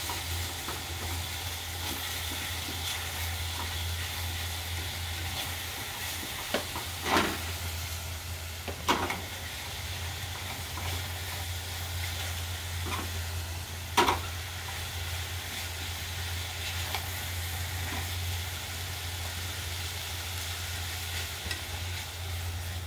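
Okara (unohana) with egg being stir-fried in a pan, a steady low sizzle and hiss running throughout, broken by a few sharp scrapes and taps of a utensil against the pan.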